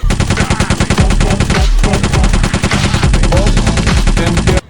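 Toy water gatling gun with a small water tank, fired continuously in a loud, rapid mechanical rattle that runs unbroken for several seconds, with one brief dip partway through, then stops abruptly.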